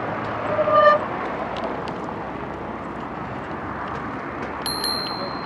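Road traffic passing close to a RadRover e-bike on a foggy road, a steady roar of passing vehicles with a short horn toot near the start and another near the end.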